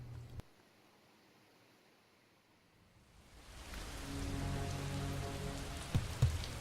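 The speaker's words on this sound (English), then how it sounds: "It's rain, guys!" Rain begins falling outdoors at night, quiet at first and then swelling into a steady, dense hiss of drops on surfaces that holds loud through the end, with a couple of brief knocks near the close.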